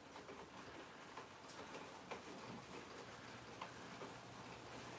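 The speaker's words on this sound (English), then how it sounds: "Here comes the rain. Do you hear it?" Rain begins falling outside an open window, a faint, steady patter with scattered individual drops ticking against surfaces, heard alone at low level.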